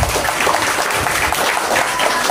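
An audience at a live Ramadan event hosted by a Temanggung hospital applauds in a short, loud, dense burst of clapping, close and sustained throughout.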